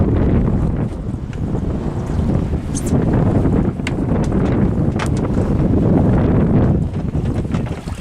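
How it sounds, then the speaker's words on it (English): Strong wind gusting across a microphone out on Netarts Bay while crabbing from a boat, a loud continuous roar and rumble with buffeting, water sloshing faintly beneath. "wind's picking up"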